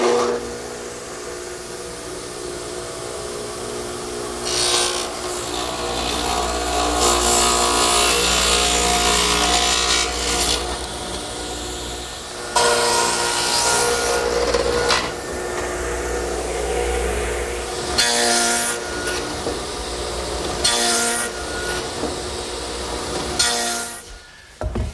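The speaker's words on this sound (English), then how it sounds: "I've set up a stacked dado head cutter in my radial arm at about 5/8 of an inch width, and I'll just take my time and make all the cuts." A radial arm saw fitted with a stacked dado head cutter set about 5/8 inch wide, cutting wood for a picnic table in repeated loud whining bursts, with the motor running between cuts.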